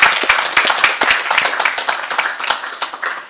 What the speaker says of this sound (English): So can we give a very hearty clap